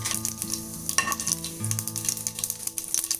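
Mustard seeds and red chili sizzle and spit in a spoonful of hot ghee for a rasam tempering, a steady close crackle with sharp popping bursts over a low hum.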